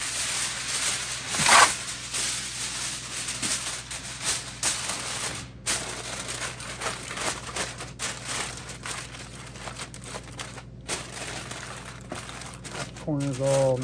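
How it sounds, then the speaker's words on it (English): Aluminium foil crinkling and crackling as a caterer wraps it tightly over a tray of barbecue chicken thighs, with close, continuous rustles that grow sharper toward the end while a voice talks over them. "put some foil over it here"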